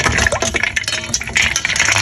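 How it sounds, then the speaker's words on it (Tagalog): Peeled garlic cloves are dropped into a bowl of cold water, giving a close, continuous splashing and sloshing with bright liquid clinks over about two seconds. "Ilagay lang natin dito sa ating malamig na tubig."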